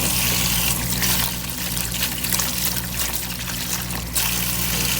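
Steady water pours and trickles while old soil is rinsed off the roots of a haworthia succulent being repotted, a continuous close splashing stream that briefly eases in the middle before running strong again, with no talking.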